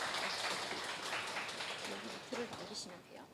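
An audience at a Lush Korea sustainability campaign talk applauds to welcome a speaker, with dense steady clapping from a crowd that tapers off as a voice begins near the end.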